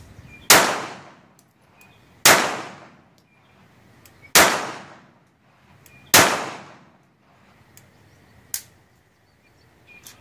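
A Frommer Stop M12 pistol fires four sharp, loud shots about two seconds apart. Each shot rings out briefly, and a fainter fifth report follows a little later.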